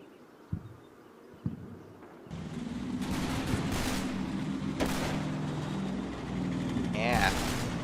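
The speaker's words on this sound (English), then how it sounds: "Rifle grenades are super cool" Rifle grenades fired in a Combat Mission World War II game at Neuville au Plain, Normandy: two sharp reports, then a sustained roll of distant gunfire and explosions with rumbling background, a voice briefly talking.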